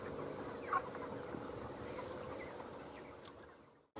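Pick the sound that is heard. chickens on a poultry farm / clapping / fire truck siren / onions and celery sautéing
chickens on a poultry farm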